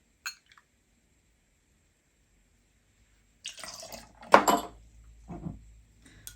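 Orange juice poured into a cocktail shaker already holding ice: a small click, a pause, then a few seconds of soft splashing liquid with ice shifting, quiet and close.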